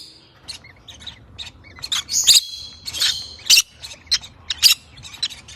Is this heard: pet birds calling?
yes